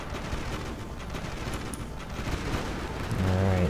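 Gunfire aimed at a fortress in the video game Project 37 comes as a dense, continuous rattle of shots that builds slightly toward the end, with a low rumbling layer underneath and no voices.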